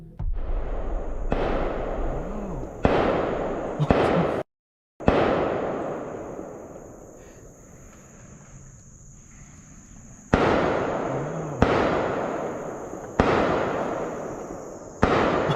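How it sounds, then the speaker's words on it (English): Loud sharp gunshots crack out one at a time during a hunt, several spaced seconds apart, each followed by a long echoing decay outdoors. "the sudden crack of gunfire shattered the silence"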